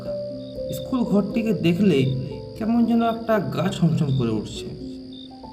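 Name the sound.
crickets chirping at night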